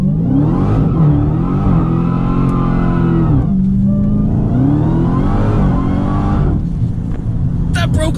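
A Dodge Demon accelerating hard on drag radials, its engine revving loudly and rising in pitch, dipping briefly before climbing again, with someone talking over the roar.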